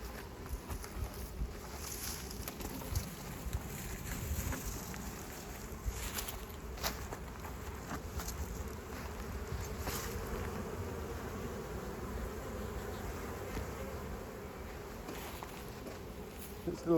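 Honey bees hum steadily around hives in a botanical garden apiary, a constant low drone that runs through the whole stretch with slight swells and no break.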